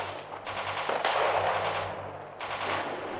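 Gunfire rattles in the war strategy game Radio General, with bursts of shots and a steady rumble that comes and goes over a few seconds, loud and without talk.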